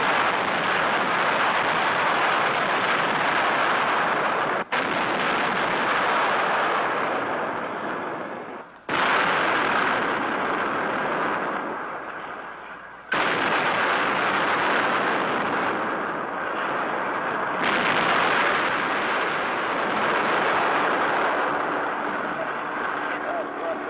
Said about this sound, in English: Weapons capable of hurling 300-pound projectiles many miles with amazing accuracy.